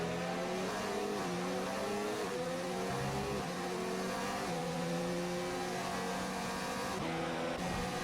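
F1 race cars in a racing video game at Silverstone, several cars battling closely, their engines a steady, loud high-pitched whine with shifting revs that rise and fall throughout.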